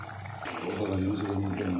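Water pours into a simmering pan of Tamil egg gravy, a short gurgling splash that swells and then runs steadily for a moment, close by.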